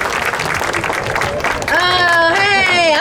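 An outdoor audience breaks into brief clapping while a voice talks, then a loud tonal sound with a rising pitch cuts in and carries to the end.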